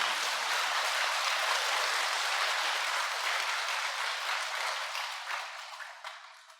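An audience breaks into sustained applause, a thick wash of many hands clapping that holds steady and then gradually thins and fades away near the end.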